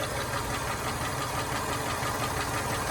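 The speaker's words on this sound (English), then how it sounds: "So there's the new radiator, and you can hear the engine." A Toyota Tacoma pickup truck engine with a new radiator idles steadily up close, a fast ticking running through its constant rumble.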